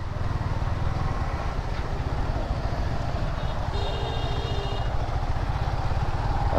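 A motorcycle rides along a rough, risky road, its engine a steady close low rumble that runs throughout, with a few faint rattles on top.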